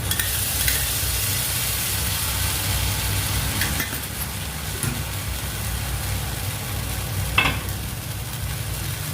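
Beetroot halwa stirred in a hot pan, with a continuous close sizzle and frying hiss broken by occasional scraping strokes of the spoon, no voices present.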